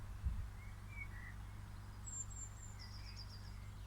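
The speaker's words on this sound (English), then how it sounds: "the main thing which catches my attention is definitely the birds chirping" Faint outdoor birds give a few short, high chirps and tweets at a distance, heard over a low steady hum with distant traffic in the background.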